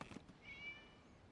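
Cat meowing in the Genshin Impact video game: a single short, faint meow, rising slightly and then fading, over quiet background ambience.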